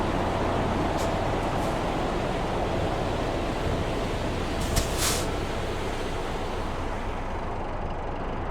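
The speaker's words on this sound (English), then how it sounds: "You hear the traffic, it sounds like the wind blowing." Steady, broad traffic rush from Euro Truck Simulator 2, a continuous windlike roar of passing vehicles heard from the cab, loud and unbroken with a couple of faint higher hisses midway and no talk.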